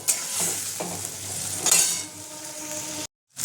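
Ridge gourd and garlic bharta with turmeric and sugar stir-fried in a pan, with a steady sizzle and scraping stirring strokes close up, a few louder scrapes, then a brief dropout near the end.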